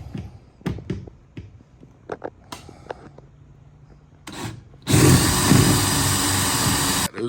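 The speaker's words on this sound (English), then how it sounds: "I'm gonna drill this last one back here as well" A power drill bores holes in a Madjax Triple Track roof on a Club Car Precedent golf cart. Scattered clicks and taps come first, then a loud, sustained whine of drilling runs for about two seconds and stops abruptly.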